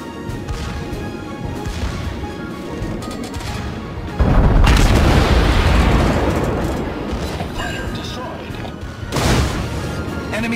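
Torpedo explosions striking a warship in a naval battle video game, heavy booming blasts and crashing rumble that swell loudly midway and again near the end over continuous battle noise.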